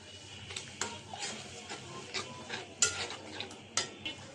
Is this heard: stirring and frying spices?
yes